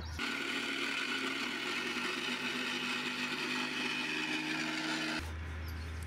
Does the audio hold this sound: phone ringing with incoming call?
no